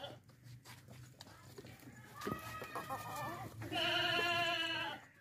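Goats kept on a farm, among them a big healthy billy goat, bleat several times in loud wavering cries toward the end, over farmyard background noise.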